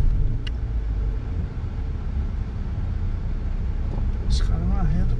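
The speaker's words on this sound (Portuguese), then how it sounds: "o trânsito tá louco aqui na cidade hoje" City street traffic on a busy afternoon, a continuous rumble of passing cars heard throughout, with a brief voice near the end.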